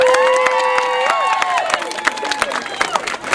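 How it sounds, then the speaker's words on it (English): Theatre audience applauding and cheering at a comic Macbeth performance, a dense crowd clatter of clapping with scattered shouts, heard alongside a sustained musical tone that fades after the first second. "Applaud for your dead people!"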